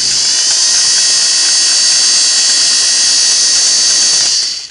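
A Singer 401A sewing machine during a final stitching test, running at a constant high speed: a continuous whirring mechanical hum that holds steady and close throughout, then drops off abruptly as it stops.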